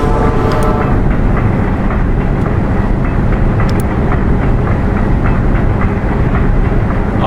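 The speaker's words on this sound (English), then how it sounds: "And we get to drive the train." A train driven in the URGE video game rumbles steadily with a loud, continuous low roar and rattling clatter, a few faint metallic clicks and squeals on top, no talking.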